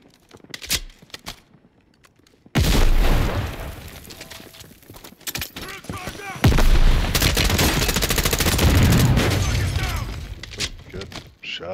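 Rapid video-game gunfire from a multiplayer shooter, dense bursts of shots and impacts running almost continuously at close range, with players' voices talking over the fire.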